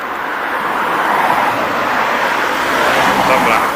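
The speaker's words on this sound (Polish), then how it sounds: "samochody jadą" Steady traffic noise of cars driving along a road near an abandoned holiday house, a continuous wash of tire and engine sound at moderate distance without breaks.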